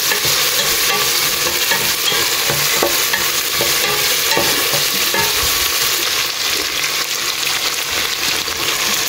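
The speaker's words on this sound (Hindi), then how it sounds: "तर आतां घालता हितून हे टोमॅटोज. ओके, घालून दिता बरो मिक्स." Tomatoes stirred into ginger and garlic frying in a pan: steady loud sizzling with scraping stirs throughout, close and unbroken, no talking.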